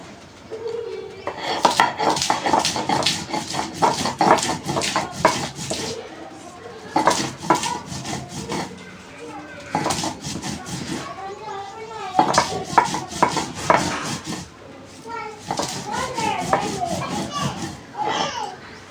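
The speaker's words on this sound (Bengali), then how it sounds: "এবার কাঁচা ঝালটা বেটে নেব।" Green chili ground on a stone slab: close, loud, rhythmic scraping and rubbing strokes in several long bursts separated by short pauses, with faint voices and chirpy background sounds drifting in between.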